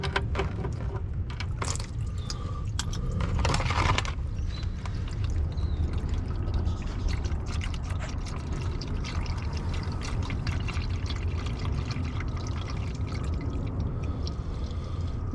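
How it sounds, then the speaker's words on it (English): Engine oil from a VR6 Beetle pours out steadily, a continuous liquid rush and trickle held for about fifteen seconds, with a few clinks and rustles early on and no talking. "Figure you guys are gonna want to see the oil that comes out."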